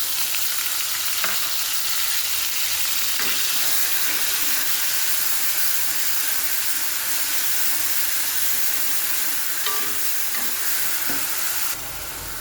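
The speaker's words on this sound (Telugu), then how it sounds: "ఇప్పుడు మనం మిక్సీ పట్టుకున్న పేస్ట్ వేసేసుకుందాం" Ground masala paste for an aritikaya (raw banana) pulusu with eggs sizzles in a hot pan with fenugreek, dried chilli and curry leaves, a steady loud frying hiss with occasional stirring clicks throughout.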